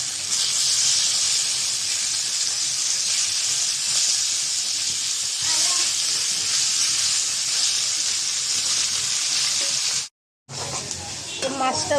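Silver carp fish frying in a pan after being flipped, a loud, dense sizzle and hiss that runs steadily, cuts out briefly near the end, then resumes more softly.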